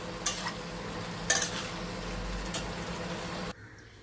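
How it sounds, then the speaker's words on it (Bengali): Curd eggplant (doi begun) is scraped and spooned from a pan onto a serving plate, with a low steady rustle and a few sharp metallic clinks of utensil on cookware, ending abruptly in near silence. "এরপরে সার্ভিং প্লেটে ঢেলে রাখছি"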